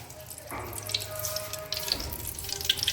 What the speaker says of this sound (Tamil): இப்போ வந்து நம்ம கொஞ்சம் எண்ணெய் ஊற்றிக்குவோம்